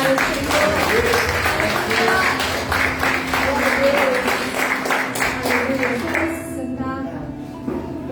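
A Baptist church congregation in Cabo Frio claps during a Sunday praise and worship service, steady rhythmic applause mixed with music and voices filling the hall before the noise thins out near the end.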